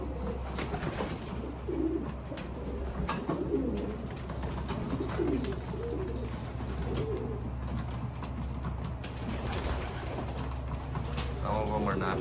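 Domestic pigeons cooing steadily and fairly close in a loft, with soft rustling and a low steady hum underneath throughout.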